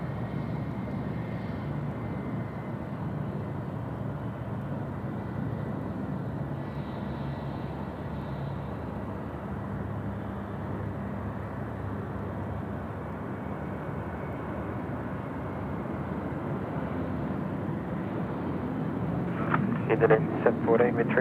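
Aircraft at Sydney Airport during the morning rush produce a continuous broad jet roar heard from a distance, steady for the whole stretch, with a few faint voices briefly at the end.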